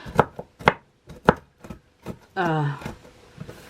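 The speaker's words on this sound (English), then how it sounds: "So I'm just going to chop them lightly" A knife chops cake topping on a cutting board in a handful of sharp, irregular knocks, close and clear, with a short voiced sound breaking in between the cuts.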